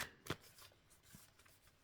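Quick papery riffles of tarot cards being shuffled in short bursts, close by and fairly quiet, with brief pauses between.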